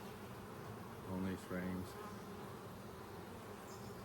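Honey bees buzz steadily around hive brood frames during an inspection, a soft continuous drone with a few louder close passes, while someone speaks briefly over it.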